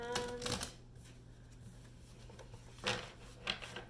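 A tarot card deck is shuffled, with a couple of quick, soft riffling bursts separated by quiet moments, close and faint.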